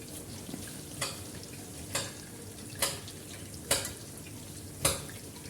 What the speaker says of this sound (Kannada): ಕೆಂಪಗೆ ಆಗೋವರೆಗೂ ಚೆನ್ನಾಗಿ ಎಣ್ಣೆಯಲ್ಲಿ ಕರೀರಿ